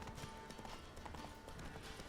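Horse hooves clip-clop steadily through a wooded area in The Witcher 3, with a dense game soundscape around them and no voices.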